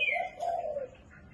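A hwamei songbird sings a short, clear whistled phrase, close and fairly quiet, with a gliding high note followed by a sustained lower tone.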